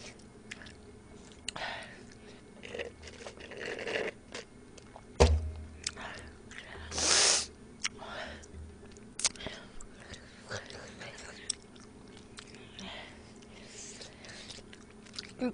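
Someone eating kimbap, with soft close-up bites, squishy chewing and wet mouth sounds coming in irregular bursts, plus a few louder crunches, faint and intimate, with quiet murmuring in between.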